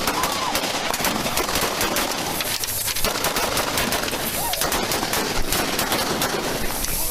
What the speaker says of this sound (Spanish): Shots fired, shots fired, shots fired, shots fired!